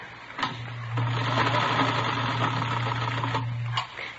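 Sewing machine running in a radio drama scene, a steady close mechanical whirr with a low hum that starts after a brief click and runs for about three seconds before stopping, no talking.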